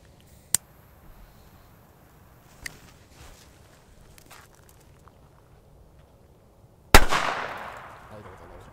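A Komet China Böller A firecracker goes off with a single sharp, loud bang near the end, and its crackling echo fades away. Before it, a quiet stretch holds a couple of faint clicks and footsteps.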